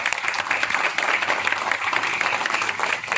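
A crowd in a Chandigarh colony clapping outdoors for police honoured as Covid warriors, dense steady applause from many people throughout, fairly close, with no voices on top.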